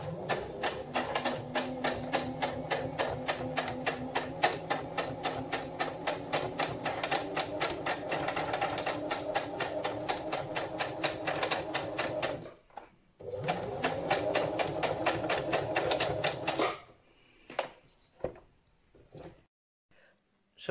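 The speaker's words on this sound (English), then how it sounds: "then you sew these three edges closed" Sewing machine closing fabric edges, a rapid steady rhythmic clatter running continuously for about twelve seconds, pausing briefly, then resuming before trailing off into a few scattered handling sounds.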